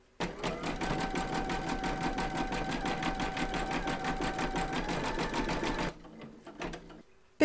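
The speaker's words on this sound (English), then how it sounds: "Pop your hoop into your machine and stitch round number 5, and that's going to zigzag along here" An embroidery machine zigzag stitching an appliqué join, a fast even rattling hum of needle strokes for about six seconds before stopping, followed by a few quiet clicks.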